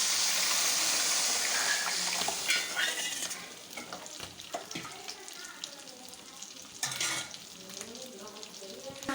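Fish curry gravy hits a pan of sautéed onions and curry leaves with a loud burst of sizzling, then settles into quieter bubbling with scattered stirring and utensil clinks.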